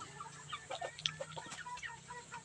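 Chicken clucking at a home yard, a string of short, soft clucks and chirpy calls scattered throughout at moderate distance, with no talk over them.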